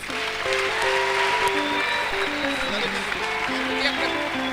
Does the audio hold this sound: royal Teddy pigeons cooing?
no